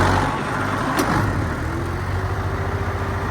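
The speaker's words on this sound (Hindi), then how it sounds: "अभी तक 5वीं दफा ये मैं ट्रैक्टर स्टार्ट करवाने के लिए आया" A tractor engine runs in a steady, loud, low rumble after starting, close to the microphone, with a brief sharp click near the beginning and no talking.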